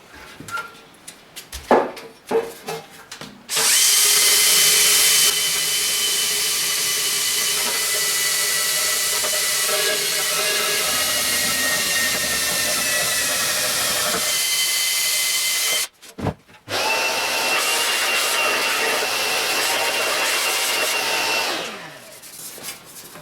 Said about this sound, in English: worked my way around with this sort of a Scotch-Brite wheel, and it's really awkward.